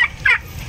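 A turkey gobbles in two short bursts, one near the start and a louder one a moment later, over low background noise.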